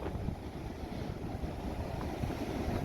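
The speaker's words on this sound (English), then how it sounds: "the water has really been crashing in here" Surf rolling in at a Philippine beach, a steady low wash of waves with wind buffeting the microphone, continuous and fairly faint with no voices.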